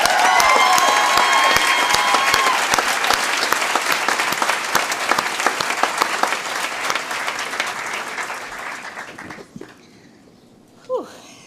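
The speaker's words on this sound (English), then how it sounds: "Can we give one more round of applause?" Sustained audience applause at a Yale environmental school commencement ceremony, a dense roar of many hands clapping that stays strong for several seconds, then thins out and fades to scattered claps near the end.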